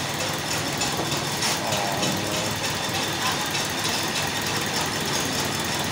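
Faulty car engine idling with a bubbling, uneven running condition, a steady dense rumble heard close up in a workshop, continuous and fairly loud with no talking.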